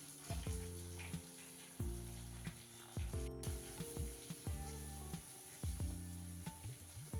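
A large onion added to hot oil in a pan, where vadagam has just fried, for green pigeon pea kuzhambu. It gives a steady close sizzle broken by repeated clunks and clinks of stirring.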